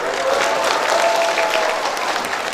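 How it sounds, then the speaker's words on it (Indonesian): Loud, dense applause from a crowd honoring guests at a political gathering at STAI JM in Tanjung Pura, Langkat, a steady roar of many hands clapping close by with no speech over it. "tepuk tangan"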